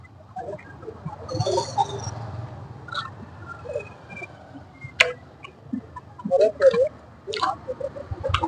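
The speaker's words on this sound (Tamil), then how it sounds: "நல்லா மொறு மொறுன்னு இருக்கு பாருங்க. சவுண்டு கேக்குன்னு நினைக்கிறேன்" Crispy fried chicken crunching under close bites, with scattered crackly snaps that grow denser and louder toward the end over a low background murmur.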